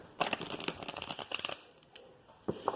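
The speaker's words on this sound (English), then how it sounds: "shuffle the other oracle cards here." Quick bursts of oracle card shuffling, crisp riffling flutters in short clusters with brief pauses, close and fairly quiet.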